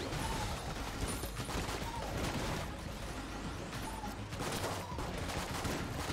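Rapid gunfire in the video game Enter the Gungeon forms a dense, continuous barrage of overlapping shots with small chimes and effects mixed in, steady and loud with no pauses.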